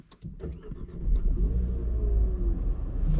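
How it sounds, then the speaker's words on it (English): A keyless-entry car starting up with a few clicks and a crank, then the engine catches and settles into a steady, close rumbling idle. "Start the car up."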